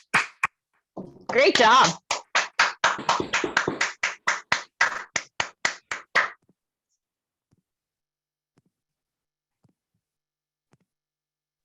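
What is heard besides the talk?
round of applause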